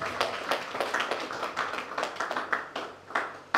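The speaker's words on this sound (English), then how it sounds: "A round of applause for yourselves." Scattered clapping from an audience at an evening event, a loose, uneven patter of individual claps rising and falling in bursts rather than a full ovation, moderately close.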